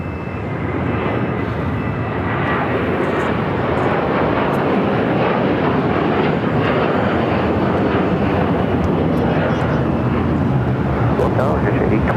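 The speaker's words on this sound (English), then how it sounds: "Next takeoff here on the south side." Airliner taking off from the south side runways at LAX, a loud continuous jet engine roar holding steady throughout, with air traffic control radio chatter over it.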